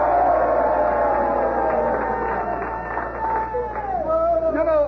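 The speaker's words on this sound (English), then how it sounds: "what do you say we give the news a big cheer?" A radio show's studio audience cheers loudly, with a mix of shouting voices and whoops that holds steady and swells again near the end.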